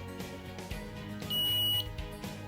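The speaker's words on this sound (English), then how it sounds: "The patch buzzer beeps once when the cannula is properly inserted." A single steady electronic beep from an insulin patch pump buzzer as the cannula is inserted, high-pitched and clear, lasting about half a second over a quiet background with faint music.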